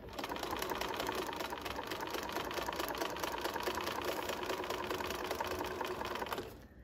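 A sewing machine stitching a blind stitch appliqué runs at a steady, fast hum with a rapid needle rhythm, close and continuous for several seconds before stopping.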